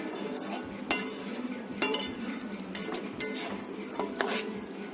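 Kheer made with bhim kol banana is stirred in a pot with a metal spoon, the spoon scraping and clinking against the sides in repeated strokes about once a second, close and clear.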